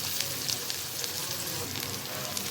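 Sliced onion frying in hot oil with nigella seeds, a dense, even, crackling sizzle that holds close and loud throughout with small pops scattered across it.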